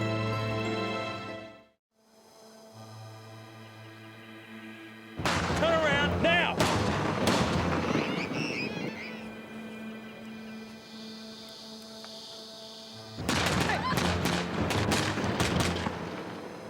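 Heavy bursts of gunfire in a crime reenactment of a killer's rampage across the top end of Australia, loud volleys with humming tones, then a lull, and another loud burst near the end.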